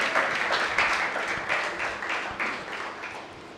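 An audience at a secondary school debate applauds both competing schools, a steady wash of many hands clapping that fades gradually over a few seconds.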